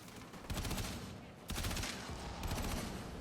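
A Kuva Hind rifle in the video game Warframe fires in rapid bursts of automatic gunfire, heavy and dense, in several close strings. A voice talks quietly underneath.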